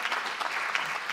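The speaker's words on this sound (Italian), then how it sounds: "Facciamone un applauso perché ci ha fatto fare il tuffo insieme a lei." Audience applause at an Incontri in BLU 2023 talk with freediver Chiara Obino, a dense, steady clapping that fills the whole moment with no voices over it.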